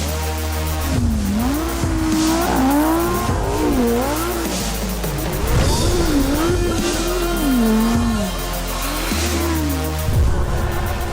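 A Lamborghini Huracan Sterrato is driven rally style on dirt with the tail hanging out, its engine wailing and rising and falling continuously as it revs through slides, loud and close, with tire noise mixed in.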